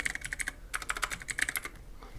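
Keys clatter on a computer keyboard as a command is typed in a quick, uneven burst of crisp clicks, close and alone with a short pause mid-way.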